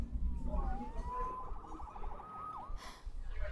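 A police siren in the video game Marvel's Spider-Man Remastered wails through a rising and falling sweep, then a quick warble, moderately loud over a low rumbling city background.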